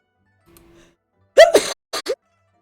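A single sharp sneeze close to the microphone, a quick burst with a brief follow-up, after a faint hum and otherwise silence.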